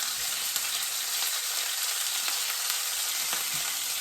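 Cajun chicken sausage sizzles loudly and constantly in a pan, with faint scrapes and taps from a wooden spoon stirring and breaking it up.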